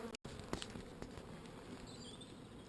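Honeybees buzzing at a beehive during an early April hive inspection, a steady low hum close by with a brief dropout near the start and faint light tapping throughout.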